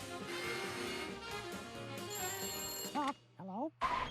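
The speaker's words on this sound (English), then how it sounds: "Oh my gosh, the Mickey phone." A cartoon telephone in a Mickey Mouse short rings over lively orchestral music, followed by a few wobbling, sliding tonal effects with short silences between them.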